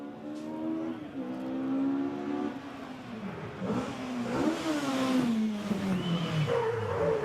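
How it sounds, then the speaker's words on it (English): A Ford Escort Mark II rally car screams toward and past at a rally stage of the 2024 FIA Motorsport Games, its loud engine note climbing and shifting through the revs, with no voices. "if an Audi Quattro makes a great iconic noise in rallying, so does an Escort Mark II"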